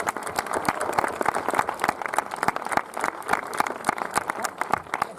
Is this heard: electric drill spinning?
no